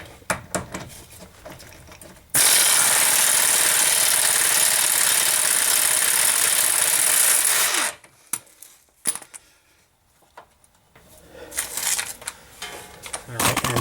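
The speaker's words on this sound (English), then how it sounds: "now we just have to get this bolt off with our impact" Impact wrench on a front lower control arm bolt of a 2004 Honda Pilot, a loud steady buzzing hammer run lasting about five seconds, then lighter clanks and tool handling, with some talk nearby.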